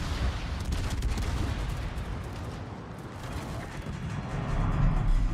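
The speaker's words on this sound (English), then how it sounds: "I'm taking a torpedo now" Torpedo strike on a warship in World of Warships, heard as a dense, rumbling barrage of booms and crackling blasts that stays loud and continuous throughout, with no talking over it.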